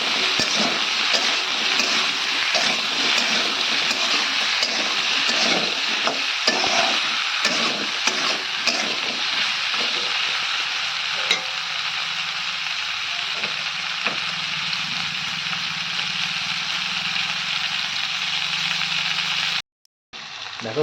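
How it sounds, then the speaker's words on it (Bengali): Okra fries with a little salt in a pan, giving a constant loud sizzle under frequent scraping stirs, then cutting out briefly near the end. "এবার দিয়ে দেবো হালকা একটু লবণ। আবারও ভালো করে নেড়ে চেড়ে দেবো।"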